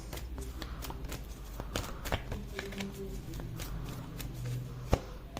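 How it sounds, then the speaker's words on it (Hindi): A deck of cards is shuffled by hand, with a soft rapid riffling and brushing, followed by light taps as a card is drawn, quiet and close with no talking. "और एक कार्ड और ले लेते हैं"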